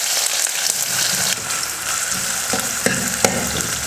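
Two onions sliced lengthwise sizzle steadily in hot oil with popped mustard seeds for bonda kulambu, with a few light stirring clicks partway through and no voices.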